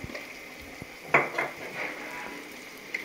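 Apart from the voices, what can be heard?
stirring chole curry with salt and chili in a pan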